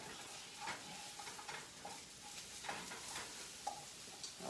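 Onions, garlic, ginger and spices frying in a pan for curried caribou, a faint soft sizzle with recurring light scrapes and taps of stirring, close and quiet.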